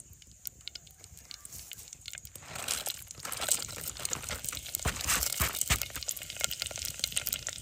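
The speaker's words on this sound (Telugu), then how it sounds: "ముందుగా నేను పోపు సామాను అంతా వేసుకుంటున్నానండి." Mustard seeds and other tempering spices hit hot oil in a clay pot, building from faint scattered pops into a dense, loud crackling sizzle with sharp spits and popping bursts.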